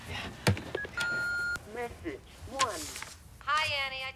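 A landline telephone keypad is dialed to check messages, giving a short beep and then a longer steady tone among brief clicks, with people talking close by.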